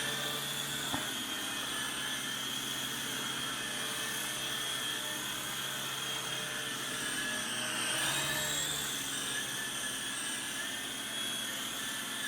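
A small $40 Syma S39 Raptor RC helicopter flies indoors with a steady, high-pitched rotor and motor whine that stays close and constant throughout, its pitch wavering briefly as it maneuvers, with no talk.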